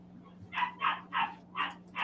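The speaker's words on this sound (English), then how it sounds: "if you hear the pup going crazy in the background" A puppy barks in the background in a quick series of five sharp yaps, moderately faint, with a steady low hum running underneath and no talk.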